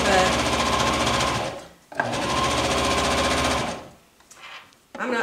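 Sewing machine stitching a blouse hem, a loud fast steady whirring hum in two long runs separated by a brief pause, then stopping with short bursts and light handling noise.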